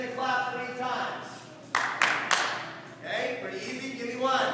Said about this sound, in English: you're going to clap 3 times